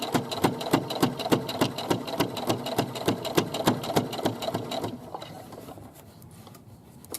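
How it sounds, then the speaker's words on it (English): A sewing machine stitches down a patch pocket in rhythmic, evenly spaced needle strokes at a moderate pace, then slows and stops, leaving only faint room noise at the end. "now I'm just going to stitch along here"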